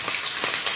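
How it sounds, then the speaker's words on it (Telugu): Slit green chillies sizzling and crackling in hot oil in a pan, a steady close frying hiss with small popping bursts and no talking. "జాగ్రత్త ఫ్రెండ్స్, ఆయిల్ మీద పడుతుంది, కొద్దిగా జాగ్రత్తగా వేయించుకోండి"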